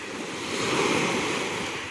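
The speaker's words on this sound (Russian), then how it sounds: "слушать прибой" Sea surf breaking on a beach in Sevastopol, a steady wash of waves that swells and fades over two seconds, with some wind noise on the microphone.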